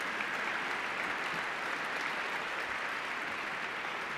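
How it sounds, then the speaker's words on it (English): An audience applauds steadily for a middle school champion science and math team at a national science bowl awards ceremony, with dense, even clapping from start to finish. "Nice round of applause for Greater Boston Science and Math Team"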